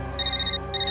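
An electronic phone ringtone trills in two bursts with a short gap between them, loud and close, over a low background hum.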